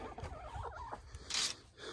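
Four hens in a small enclosed coop and run give a quick series of soft, close clucks, followed by a brief louder rustle or scratch.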